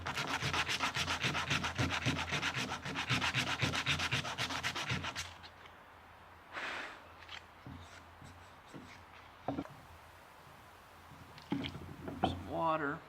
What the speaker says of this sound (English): just sanding it down to the line.